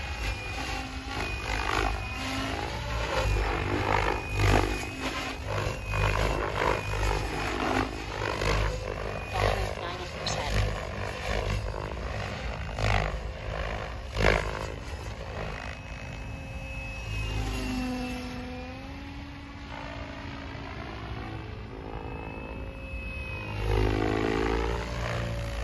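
An XLPower Specter V2 RC helicopter with an Egodrift 4525HS motor and YGE 135HVT ESC gives off a loud, whining rotor drone whose pitch surges and sags as the ESC overcompensates, with brief talk in places.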